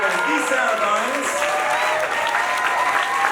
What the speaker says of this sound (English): We'll give a huge round of applause for the best stage manager in the business and a really wonderful woman, E. Sarah Barnes.